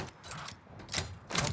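A weapon reloads in the video game Modern Warfare, with a few quick mechanical clicks and clacks of magazine and bolt in separated bursts, close and crisp.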